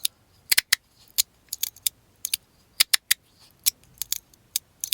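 Sharp metallic clicks from a Zerk magnetic fidget slider fitted with Swiss plates, arriving in irregular single and double snaps across the span with quiet gaps, close and fairly soft.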